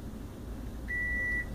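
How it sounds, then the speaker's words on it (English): Kitchen timer beeping during carrot boiling, a single steady electronic tone held for about half a second, fairly clear above a low rumbling background of boiling water. "So when this beeps, I'll take these out because they're boiling pretty good."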